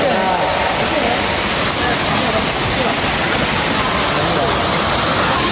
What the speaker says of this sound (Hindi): देखो वाटरफॉल इन यार अच्छे वाटरफॉल है